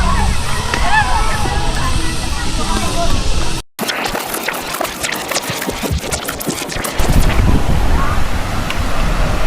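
Rushing river water flows continuously with wind buffeting the microphone, loud and close, briefly cut out partway through before resuming.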